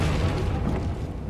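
A Confringo fire spell blasts in the Hogwarts Legacy video game, a loud, dense boom with a rumbling low end that holds steady for about a second before easing off.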